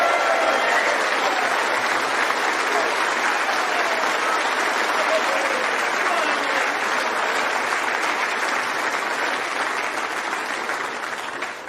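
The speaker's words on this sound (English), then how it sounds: "Please give a huge round of applause." Dense, sustained applause from a snooker tournament audience for the runner-up fills the hall, loud and steady for about twelve seconds before easing slightly at the end.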